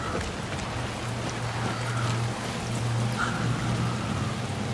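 Steady rain hiss in the video game Alan Wake II, with a low droning hum underneath, continuous and fairly loud, no voices.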